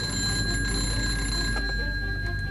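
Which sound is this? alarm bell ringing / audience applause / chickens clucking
alarm bell ringing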